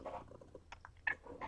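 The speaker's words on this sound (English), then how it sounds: "And the chirping cat" An indoor house cat makes soft, brief chirps and trills, a few scattered bursts separated by quiet gaps, faint and close with no voices over it.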